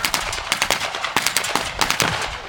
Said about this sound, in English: There's a BAR, Browning automatic rifle going up there.